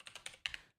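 Quick, light keystrokes on a computer keyboard, about half a dozen clicks in under a second, faint and close with no talk over them.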